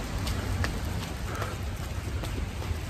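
October rain in San Francisco falls steadily, a soft continuous patter with occasional louder drops hitting nearby surfaces.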